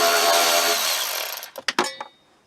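A small Milwaukee power tool driving screws during heater core replacement on a K5 Blazer, a steady high whirring run that winds down into a few short bursts of the motor.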